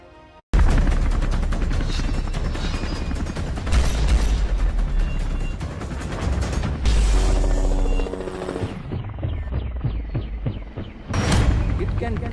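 An Indian LCH attack helicopter firing its guns, with rapid bursts of gunfire and heavy booms over a loud, sustained rotor and engine roar, punctuated by sharp cuts between shots.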